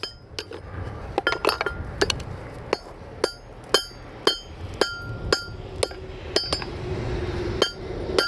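A beginner blacksmith's hammer rings against metal in repeated sharp clanks, irregular at first then settling into a steady rhythm, close and bright with no speech.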